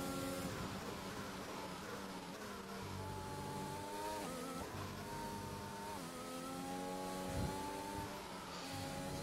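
An F1 2021 race car drifting through corners at the Belgian GP: a steady, continuous high engine whine that rises and dips with shifts and revs, fairly faint and without talk.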